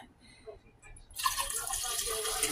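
Water pours into a large cup: quiet clinks and handling first, then a sudden steady hissing rush of filling liquid that carries on to the end.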